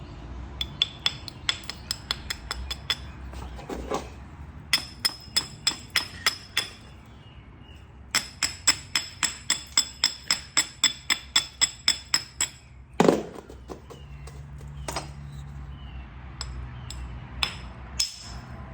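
Georgia jasper blade being bevelled by flint knapping, sharp close clicking strikes in quick rhythmic runs with brief pauses, one heavier knock partway through and a few scattered taps near the end.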